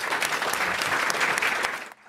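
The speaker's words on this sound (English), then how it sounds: "Big applause really to all of you" Short burst of dense audience applause at a forum fireside chat, steady crowd clapping that cuts off abruptly at the end.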